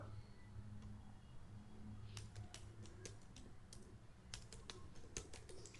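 Fingers tap a computer keyboard while entering a username and password, producing quiet, irregular bursts of clicking keystrokes over faint background hum.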